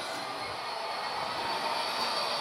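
A model train runs continuously along a track with a steady whirring rattle, close and fairly quiet, without any talking.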